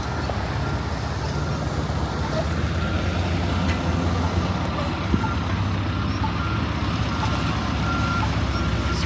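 A snowplow truck spreading salt on Eglinton East near Warden in Toronto rumbles steadily nearby, its low engine drone mixed with constant roadway noise and a faint repeating reversing beep.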